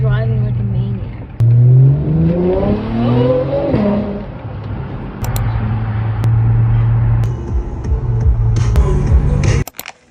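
A car's engine hums steadily inside the cabin, then revs with a rising pitch as the car accelerates, while people talk over the engine noise.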